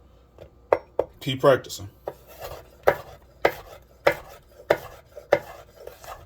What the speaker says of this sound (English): And just rock and chop.